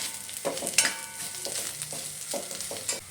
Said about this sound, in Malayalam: അതിനുശേഷം നമുക്ക് ആവശ്യത്തിനുള്ള കറിവേപ്പില ചേർത്ത് കൊടുക്കാം